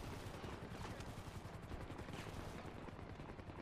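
Sustained automatic gunfire from a helicopter in GTA V on a NoPixel roleplay server, an unbroken, dense rattle of rapid shots filling the whole stretch, loud and close with no talk over it.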